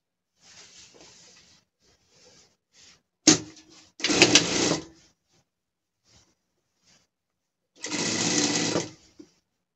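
Sewing machine stitching lining and main fabric together for a gaucho-style pet costume, running in several separate bursts of whirring, with short pauses and small handling noises between runs.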